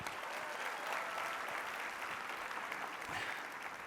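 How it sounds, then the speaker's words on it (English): Banquet audience at an awards dinner applauding a corporate sponsor with sustained, even clapping from a large crowd, heard somewhat distant and without a break. "how about a big round of applause for our friends at MetLife?"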